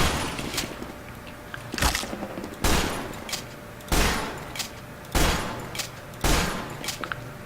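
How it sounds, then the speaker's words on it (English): A sentry gun in a video game fires in a series of sharp, loud bursts, roughly six blasts spaced about a second apart over a low background. "Next, I'll show you how to deal with a sentry gun."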